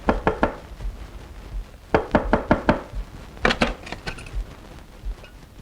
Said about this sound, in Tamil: பின் கதவை தட்டினா முன் கதவை திறக்கிற?